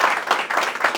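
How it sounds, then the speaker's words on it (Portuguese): A church congregation breaks into warm applause for the women present, with steady, dense clapping that fills the room at moderate loudness throughout. "se pudermos dar uma salva de palmas pelas nossas mulheres"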